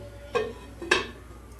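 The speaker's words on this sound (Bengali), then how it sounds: "এবার ঢাকা দিয়ে দেবো" Lid set onto a cooking pan of fish curry with brinjal, giving two short close clinks, the second sharper, over a quiet background.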